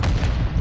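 Semtex grenade explosion in Call of Duty, a short, heavy, booming blast with dense low rumble filling the whole moment.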